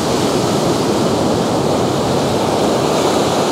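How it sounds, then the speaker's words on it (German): Ocean surf surges and breaks against rocks on a monsoon-season beach at Khao Lak, Thailand, a loud, continuous roar of churning water with no voices. "ob es dann geschützt ist oder ob es die Brandung dann halt richtig reinknallt"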